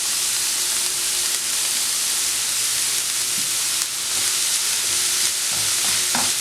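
Onions sautéing with green chilli, curry leaves and salt give a steady, loud sizzle with dense hiss throughout, and a few soft stirring scrapes come near the end.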